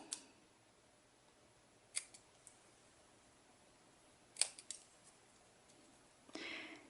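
Card paper is trimmed with scissors in a quiet room: a few sharp, isolated snips spaced out over several seconds, faint and close, followed by a soft brushing rustle.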